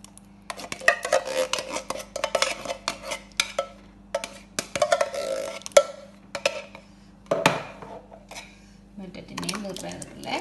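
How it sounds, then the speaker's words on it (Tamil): Two tins of coconut milk are tipped into a cooking pot for thothal, with clanks of the tins and pot, scraping and a liquid pour amid kitchen clatter, fairly close. "இதுக்குள்ளே நான் இப்போ இந்த 2 டின் தேங்காய் பாலையும் இதுக்குள்ளே விட போகிறேன்."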